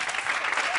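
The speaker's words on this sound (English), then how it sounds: "Give them another big round of applause, please." Theatre audience applause for a musical performance, a dense, steady wash of many hands clapping close and fairly loud through the whole short stretch, with no voices over it.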